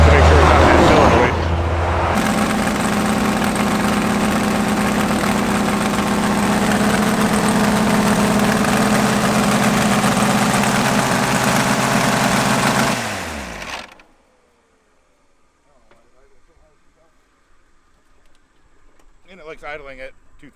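A Hemi-powered Fox car idling at a drag racing event, a loud steady engine drone holding for around thirteen seconds before cutting off into near silence.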